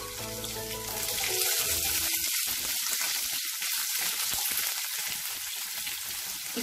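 Chillies, garlic, curry leaves and onions fry in hot oil for a tempering, giving a loud, continuous crackling sizzle that swells slightly after the first second and holds steady, close up with no talking.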